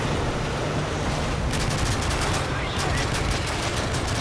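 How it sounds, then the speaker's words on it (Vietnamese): Rapid bursts of B90 automatic gunfire in the video game Call of Duty: Modern Warfare 3, dense and loud, continuous crackling shots across the whole moment. "Mình lấy B90 bắn đi."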